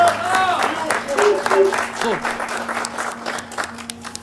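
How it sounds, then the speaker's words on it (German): An audience applauds at a rap competition show, steady clapping throughout while someone talks over it. "Ein Applaus erstmal für die Jungs."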